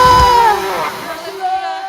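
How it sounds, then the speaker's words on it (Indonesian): A church congregation shouts and whoops in worship, a loud swell of crowd voices with a raised bellow near the start that eases into sustained cheering and calling. "Yang percaya sorakan haleluya."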